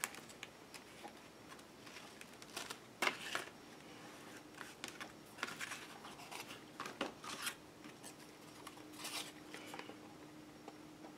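Scissors snipping through fabric while a piece is cut out for a fabric collage, a quiet run of short crisp clicks and rustles close by, with no talking.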